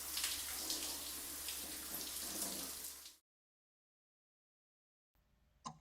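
Shower water running down a drain in an audio drama, with the cleaning of a wound on the shower floor: a steady hissing spray for about three seconds, then silence, then a faint return of water.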